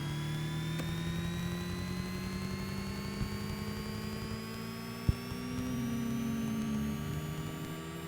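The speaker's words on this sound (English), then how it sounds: "I'm about to fire up the mighty PT6 turbine engine." The PT6 turbine of a Cessna Caravan on floats spools up, a rising high whine over a steady hum that grows gradually as the engine starts, with a single click partway through.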